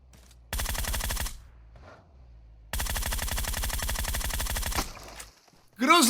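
Two long bursts of rapid automatic gunfire from a PUBG Mobile match, loud and close, with a short quiet gap between them and a brief voice at the end.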